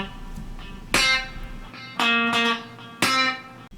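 Slow country guitar train beat lick: three distinct plucked chord strikes about a second apart, each ringing and decaying, with muted string noise between them.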